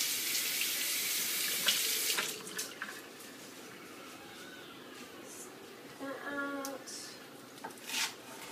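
Tap water runs into a kitchen sink while fresh cilantro is rinsed for guacamole, a steady hissing stream that softens after a couple of seconds into quieter splashing and trickling, with faint voices in the background.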